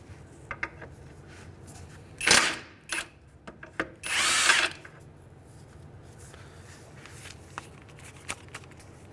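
An impact wrench on a 2003-2011 Honda Element loosening the 19 mm ball joint castle nut during a passenger CV axle job: two loud bursts of hammering rattle, one short and one longer, with faint tool clatter between.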